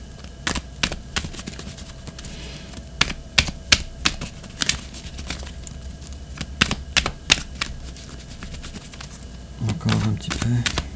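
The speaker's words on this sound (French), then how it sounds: "Bref, alors, je continue de brasser les cartes un petit peu." Tarot cards are shuffled by hand in rapid, irregular flutters and snaps, close and crisp, continuing for several seconds. A voice speaks faintly near the end.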